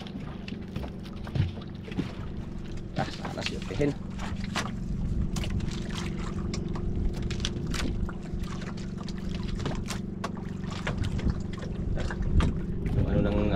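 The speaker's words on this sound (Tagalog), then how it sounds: "Lakas ng hangin sa labas, hindi tayo makapaglalabas." Strong wind gusts roar and buffet the microphone aboard a small fishing boat, steady and close, while people talk over the blustery noise.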